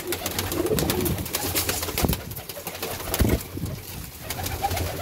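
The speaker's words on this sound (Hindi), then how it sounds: "ये थे हमारे अली भाई के कबूतर जो हैं घर में हमने जोड़े रखे हैं" Domestic pigeons kept at home coo in soft, repeated throaty calls, close and fairly loud, layered over each other with no talk.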